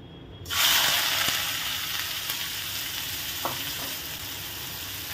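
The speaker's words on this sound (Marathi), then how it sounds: "कांदा गोल्डन ब्राउन होईपर्यंत परतून घेऊयात।" Four finely chopped onions hit about two and a half spoons of hot oil for street-style egg bhurji, letting out a sudden loud sizzle that settles into a steady frying hiss, with a few stirring taps.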